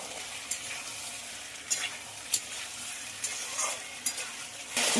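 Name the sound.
ridge gourd frying and stirred in spice paste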